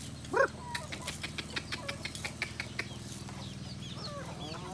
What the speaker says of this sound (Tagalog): Ayan na sila native chicken ko lang yan.